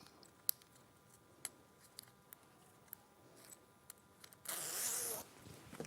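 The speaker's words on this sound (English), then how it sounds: "And now I'm going to zip my zipper back up." A zip sewn into a garment is pulled closed in one quick, close rasping run near the end. Scattered small clicks and handling noises come before it in an otherwise quiet room.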